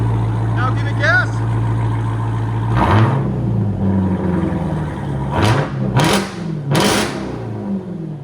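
Straight-piped 2023 Dodge Durango Hellcat with a 6.2L V8, heard loud and close as a steady rumbling idle gives way to repeated throttle blips that rise to sharp roaring revs, with people talking and whooping between them.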